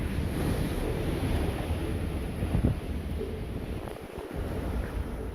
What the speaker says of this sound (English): the wind is still howling